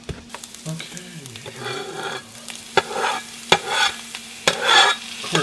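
Onions and meat frying in a pan for a cornbread Mexican casserole, a low sizzle broken by several sharp scraping stirs of a utensil against the pan at close range.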